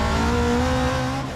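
A 520 whp hillclimb Subaru BRZ accelerating hard on a racetrack, its engine note climbing in a loud, sustained rising whine with no pause, close and dominant.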